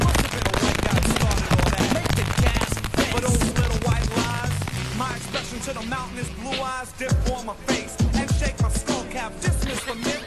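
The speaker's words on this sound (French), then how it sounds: "Toute la journée vous allumez des pétards et vous foutez le feu à la rue!" Firecrackers burst in a street, dense rapid cracks and pops piling over one another in irregular volleys, loud and close, thinning briefly in the middle before picking up again.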